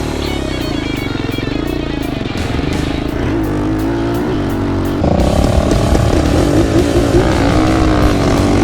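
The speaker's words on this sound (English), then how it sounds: "So we're gonna go ahead and try a roll race." Several quad ATVs, a Yamaha Raptor 700, a Polaris Predator 560 and a 250R, roll-race side by side, their engines droning loud and close. A steady rumble builds and jumps harder about midway as they accelerate together.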